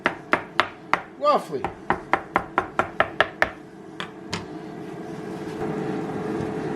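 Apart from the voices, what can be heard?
chopping smoked eggplant flesh with knife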